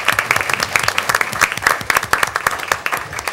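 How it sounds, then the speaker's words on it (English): A crowd at a city commission meeting applauds steadily, dense clapping from many hands filling the whole stretch at a lively, even level. "let's give a round of applause to the department heads"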